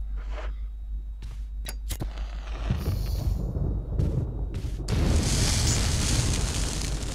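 A deep, rumbling explosion in the video game Resident Evil Remake bursts out after a few sharp pops, then a loud crackling roar fills the rest, with no talking.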